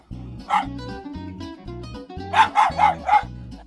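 Small dogs in a Barbie toy playtime scene yap several times in short high barks over a steady, pulsing musical background, with a quick cluster of louder barks near the end.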